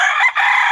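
A rooster crows once, loud and close, in a single sustained call with a brief dip partway through.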